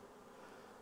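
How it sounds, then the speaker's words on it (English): A dense, steady buzz of many honey bees swarming close by around a hive, droning without a break. "I'm blocking the bees to the hive behind me."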